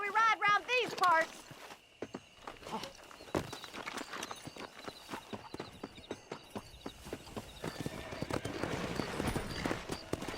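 Horse hoofbeats while riding in Red Dead Redemption, a steady clip-clop rhythm of hooves at close range that runs on for several seconds, starting after a short burst of other game sound, with voices talking over the gallop.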